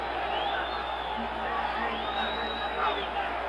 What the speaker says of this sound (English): The crowd, seeing Gray's gun, is now coming to life.